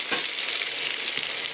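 Potato and pointed gourd pieces frying with turmeric and salt in a pan, a dense close hiss of sizzling oil with a few soft stirring scrapes, steady and continuous without any voices.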